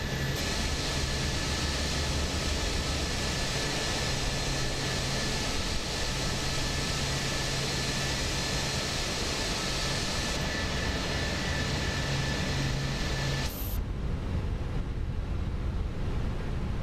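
Fenix A321 airliner taxiing in Microsoft Flight Simulator 2024, a steady broadband engine roar with a low hum that holds for most of the stretch, then drops away abruptly near the end, no talk.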